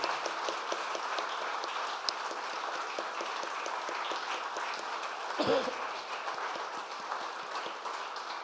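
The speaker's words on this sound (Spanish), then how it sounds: "Demos un aplauso al Señor Jesús." A church congregation applauds continuously during a service, a dense patter of clapping hands at steady volume lasting several seconds.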